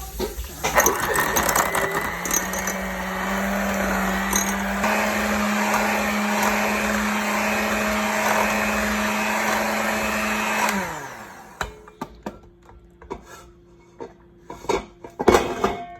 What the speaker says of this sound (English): We're just gonna use a hand mixer.